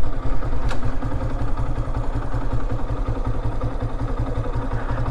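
A motorcycle idles close by outside the Kantanagar archaeological museum in Dinajpur, its engine holding a steady, evenly pulsing low putter throughout with no change in pace.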